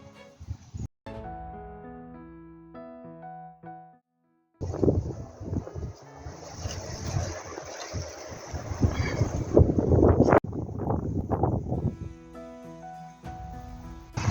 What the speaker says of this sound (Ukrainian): зловісно вітер хитає деревами